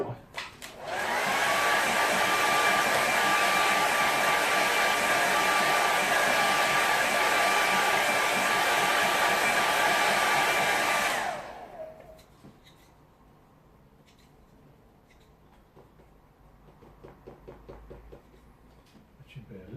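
A hair dryer blows steadily and loudly for about ten seconds, drying a watercolour woodland painting, then cuts off, leaving quiet room tone with light tapping and faint background noise.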